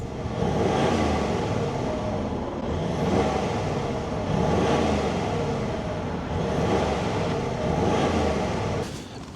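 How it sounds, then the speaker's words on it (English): A Range Rover engine revs repeatedly, swelling to a loud roar about four times in a row with brief dips between each rev. "let's put the cameras on behind, give it a few revs and see what we're working with"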